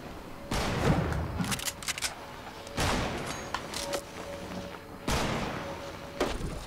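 Gunfire in a Fortnite Battle Royale match: several bursts of shots at spaced intervals, mid-distance, over steady game ambience with no talk.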